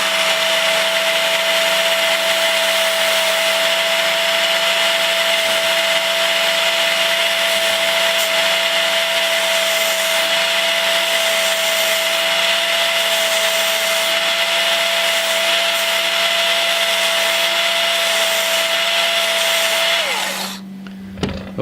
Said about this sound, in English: we're going to grind against the bevel, out, and then flip it around and do it the other way